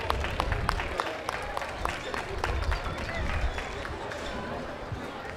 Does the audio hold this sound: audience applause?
yes